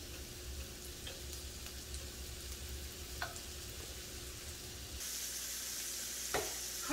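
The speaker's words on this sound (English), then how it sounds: "One by one in the pan." Large shrimp frying in a pan for a shrimp dip, giving a steady, close sizzle with faint crackles throughout and a slight swell in the last seconds as another piece goes in.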